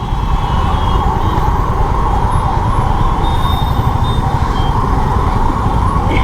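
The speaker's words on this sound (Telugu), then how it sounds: "ఇటు ఒక అంబులెన్స్, అటు ఒక అంబులెన్స్, రెండు కనిపిస్తున్నాయి" Ambulance sirens wailing through Hyderabad traffic, loud and continuous, with a constant tonal howl over a dense rumble of road noise and engines, no pauses throughout.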